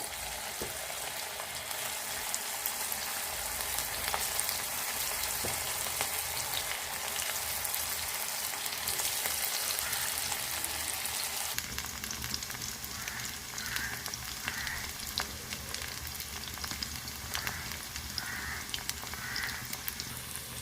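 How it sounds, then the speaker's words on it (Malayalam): Continuous dense sizzling and bubbling of hot oil as cauliflower deep-fries, like steady rain, close and loud throughout, with occasional pops and no talking. "നമ്മൾ കോളിഫ്ലവർ പൊരിക്കാൻ പോകാം"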